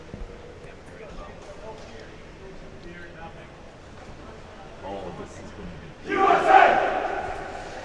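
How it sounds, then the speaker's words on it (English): Spectators at an underwater hockey world championship match between the USA and Canada, faint background chatter and commentary that breaks into a sudden burst of cheering near the end. "you could hear USA cheering there"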